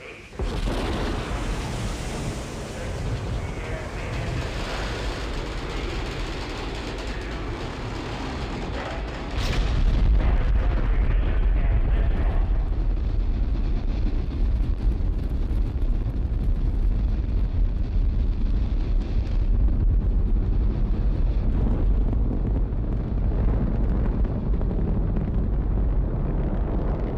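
Space shuttle main engines roar at liftoff with a steady broadband rumble, joined near ten seconds by a louder, deeper low-frequency blast that keeps going without a break, heavy and close, with no voices.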